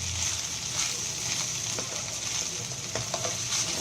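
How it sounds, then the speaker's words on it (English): Rice stir-fried with pepper powder in a hot pan, a steady close sizzle with scattered scraping knocks from stirring, and no talk over it. "Just keep stirring. It's like a stir fry."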